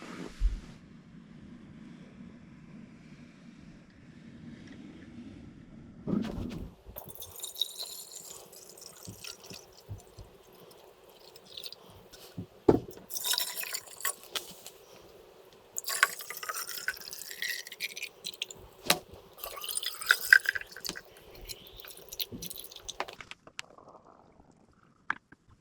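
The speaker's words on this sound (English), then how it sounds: "So I'm going to get some water and we'll fill them up." Water pours and trickles into jars close by, coming in intermittent bursts of filling and dripping separated by quiet pauses.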